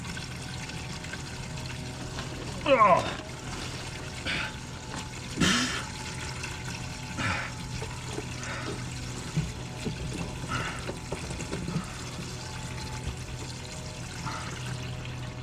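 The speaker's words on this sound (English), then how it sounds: "I gotta drain the water out of the thing." Water draining and splashing out of a neglected Chevy K5 Blazer, a faint trickling wash with a few brief louder gushes, and a person briefly exclaims.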